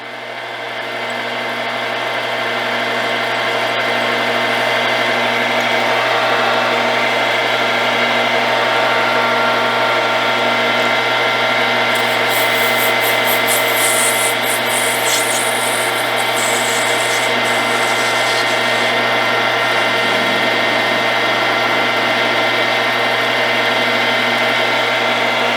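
A machine tool spins steadily at 1400 RPM with a loud, even motor whine and hum while a prototype injection-molded knob is being made, swelling up at the start, with a brief lighter scraping contact midway as the tool touches off the workpiece.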